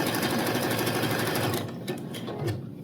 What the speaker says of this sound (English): I'm going to start with a stay stitch, and I'm going to go down one side of the cup